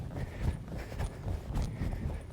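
Horse hooves clip-clop in a steady, rhythmic extended jog during western riding, close and moderately loud with even repeating beats and no talk over them.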